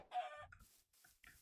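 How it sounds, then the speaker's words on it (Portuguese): Hen clucking right after laying an egg, a short loud squawking cackle followed by a few softer broken clucks, close and alone. "You just saw the chicken dropping the egg."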